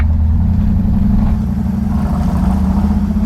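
A Shelby GT500 Mustang Eleanor engine revs with a loud, steady low rumble that stays close and heavy throughout, with no voices over it.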